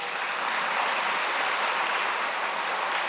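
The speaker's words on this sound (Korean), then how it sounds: "박수 한번 쳐주세요." Church congregation applauding a newly welcomed member during a Sunday service, an even, continuous patter of many hands clapping throughout without pause.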